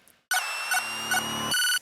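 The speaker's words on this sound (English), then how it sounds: "there's a cute little square bell that plays at the pre-drop" A bright synth square-wave bell plays short repeated chimes over a sustained electronic pad at the pre-drop of an electronic dance track, loud and upfront.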